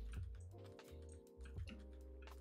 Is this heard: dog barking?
no